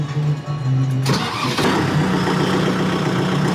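A Kubota MU55 tractor engine cranks for about a second, catches and starts, then settles into a loud, steady running rumble nearby with no voices.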